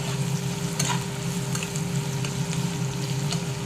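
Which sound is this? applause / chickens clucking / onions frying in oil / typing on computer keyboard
onions frying in oil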